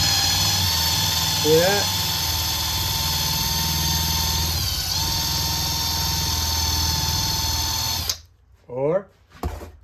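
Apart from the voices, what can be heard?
power tool with polishing wheel polishing aluminum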